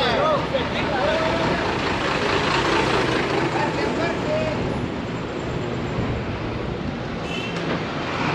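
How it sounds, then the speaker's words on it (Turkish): An American-style bus in Guatemala gives off a loud, continuous engine rumble mixed with street traffic noise, and voices can be heard in the background. "Amerikan tipi otobüsler var burada."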